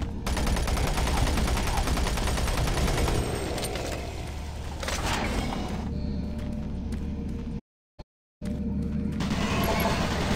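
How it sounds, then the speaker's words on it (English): Automated turret guns in Doom 3 fire in a relentless, loud, sustained rattle of rapid shots, breaking off briefly into near silence before resuming. "Warning, automated turret guns online."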